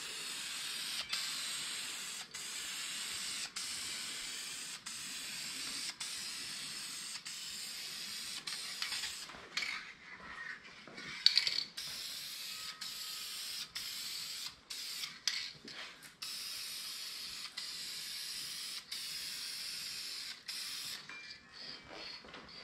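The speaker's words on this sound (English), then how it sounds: "we're just going to go ahead and lightly dust it all the way through" A Duplicolor spray paint can lays down a light coat in long steady hisses, broken by short gaps and a few clicks and rattles, heard close up.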